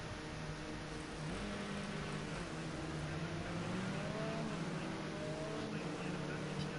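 Modern touring cars on a Snetterton 300 qualifying out-lap in a racing video game: a steady, moderate engine drone with rising and falling pitch sweeps, continuous throughout with no audible talk.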